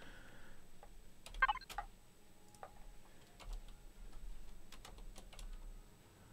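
Faint, sparse keystrokes on a computer keyboard, a few scattered clicks over a low background hum, with no talking.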